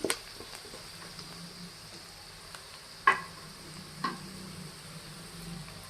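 Dried red chillies frying in oil for mango rice, a steady soft sizzle with a few sharp pops and clicks of stirring, fairly close and quiet, no talk.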